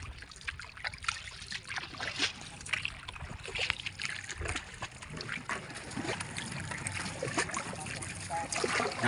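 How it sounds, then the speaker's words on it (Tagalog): Water splashes and trickles irregularly as a paddle dips and pulls in shallow water, with soft knocks against a small wooden boat; faint and close. "Sagwaran muna yung ano, yung bangka kasi mababaw pa."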